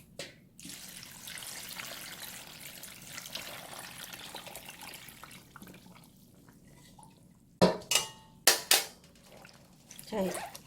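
Water poured into a container to fill radish kimchi brine gives a steady soft splashing and trickling for several seconds, followed by a few sharper drips and sloshes near the end, faint and close.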